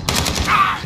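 Rapid automatic FAL rifle fire in Call of Duty Modern Warfare, a steady close burst of repeated shots lasting under a second with no pauses.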